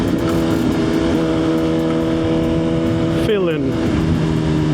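A Suzuki GSX-R1000 sport motorcycle engine running steadily close by, a loud continuous drone that drops in pitch briefly as the rider eases off, with a voice speaking over it.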